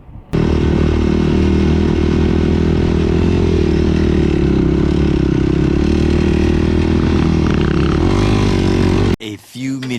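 An off-road vehicle without a cage riding on the Glamis sand dunes: a loud, sustained engine roar with slight pitch swells, close and constant, cutting off abruptly near the end before a brief return.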